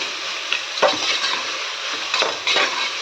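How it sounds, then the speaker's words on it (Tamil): Two tomatoes sauté in a pan for Karnataka-style bisi bele bath, giving a bright, continuous sizzle with a few scraping stirs of a spoon pushing them around, heard up close without speech. "2 தக்காளி இதிலே போட்டு வதக்கலாங்க. சும்மா 2 வதக்கு வதக்கினா போதுங்க"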